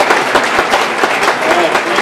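An audience at a community planning charrette gives a round of applause, dense steady clapping from a crowd of people filling the room, close and fairly loud.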